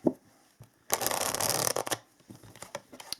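Tarot cards are shuffled close up in a dense riffling burst, followed by a few scattered taps and soft handling sounds.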